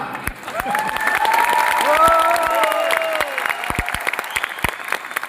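Audience applause at an 8th anniversary company event with a product launch, a dense burst of clapping with some cheering tones, loud and close, fading slightly toward the end.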